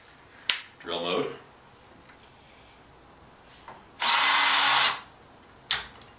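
A cordless drill boring into wood: a brief click, then a short whir, and after a pause a loud, steady drill burst lasting about a second, followed by another short tool sound.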